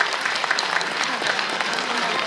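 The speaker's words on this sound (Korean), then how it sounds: "여러분 뜨거운 사랑의 박수 부탁드리겠습니다" Warm applause from an audience at an award ceremony where a singer receives a lifetime achievement prize; brisk, dense clapping, loud and close, running the whole time.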